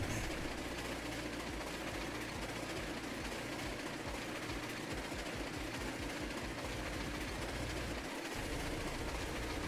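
Steam locomotives in Railroads Online labouring up a 3.5% grade at about nine miles an hour, a steady, dense rumbling drone with a faint rhythmic chuff throughout, continuous and fairly distant.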